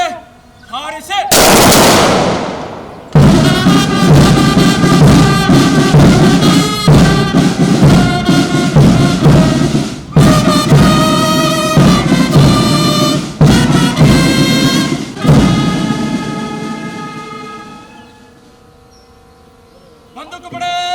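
A police guard fires a ceremonial rifle volley at a Police Martyrs' Day observance in Kolar. One loud, sharp crack rings out near the start, followed by sustained tonal ceremonial music that fades toward the end.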